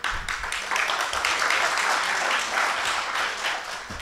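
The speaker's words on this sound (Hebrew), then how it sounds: "(מחיאות כפיים)" Audience applause at an Israeli quality association conference as an award gift is presented, steady dense clapping filling the hall for the full length without speech.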